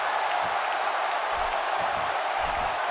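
Wrestling arena crowd in the WWE 2K17 video game, a continuous wash of cheering and applause with a few low thumps underneath, steady and moderately loud.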